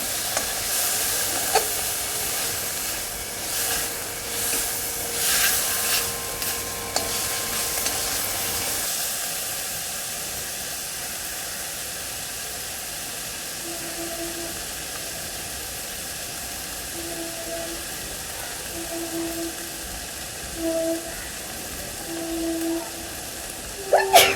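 Ginger-garlic paste fries in a pan, giving a steady, moderate sizzle that runs continuously, with a few clinks and stirring noises near the start and scattered beeping tones later.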